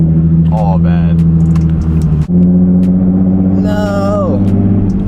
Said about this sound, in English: Car loud as shit.